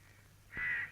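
A single crow caws once, loud and near, a harsh drawn-out call standing out over quiet background hum.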